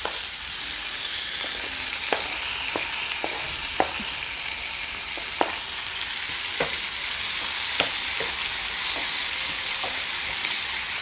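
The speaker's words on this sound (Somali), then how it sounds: "hadeertaan basashii way ii shiilmatay. hadeertaan waxaa ku darsanaa yaanyo aan soo jarjaray waaye." Onions and chopped tomatoes fry in a pan with a steady, loud sizzle, punctuated by a dozen or so sharp clicks and pops at irregular intervals; no voices are heard.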